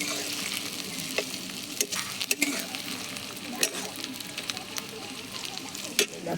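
Onions sizzle steadily in a pan over a rustic wood-burning stove while a utensil scrapes and taps the metal in irregular clicks, close and moderately quiet.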